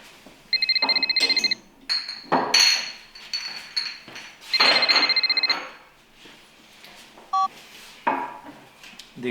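Telephone ringing in repeated electronic trilling bursts, loud and close, mixed with clattering knocks and handling noises between rings.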